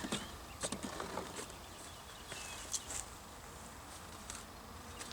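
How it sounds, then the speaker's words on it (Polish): Honeybees buzzing around an opened hive frame as they feed on honey, a soft close hum with scattered sharper sounds of frame handling. "Tutaj możecie zacząć pszczółki wyjadają miodek"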